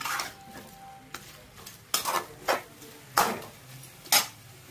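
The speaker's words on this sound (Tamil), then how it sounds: "உப்பு போட்டு நல்லா அப்படியே ஃப்ரை பண்ணிக்கலாம்." Food fries in a pan after salt is added and gets stirred. There is a low background sizzle, and four or five distinct scraping strokes of the spoon sound close and clear, spaced about a second apart.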